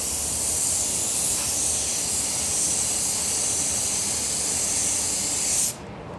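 Paint sprayed from a spray gun in a tight spot, a loud, continuous close hiss held steadily for several seconds before cutting off abruptly near the end.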